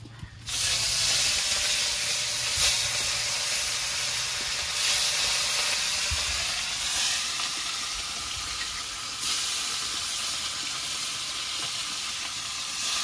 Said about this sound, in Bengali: মাছগুলো দিয়ে দিয়েছি, এবার মাছগুলো ভাজা হতে থাকবে।